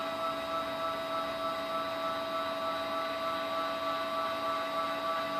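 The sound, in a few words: CNC mill X axis motor jogging back and forth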